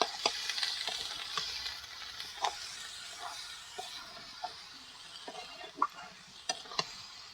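Dhekia saag fiddlehead greens frying in a pan with a little salt, a steady soft sizzle with scattered scraping clinks of a spoon stirring against the metal, no voices.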